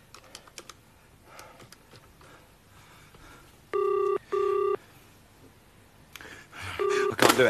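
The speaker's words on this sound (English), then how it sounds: "I'm going to phone him." A telephone is dialled in a 1988 British sitcom scene: a few soft key clicks, then two long, loud touch-tone beeps in quick succession, and a third tone later among fuller clatter.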